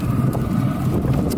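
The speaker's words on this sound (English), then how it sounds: "I do apologize for the wind. It's very windy out here." Steady, loud wind buffeting the microphone outdoors, a dense low rumble with gusty surges throughout and no voices.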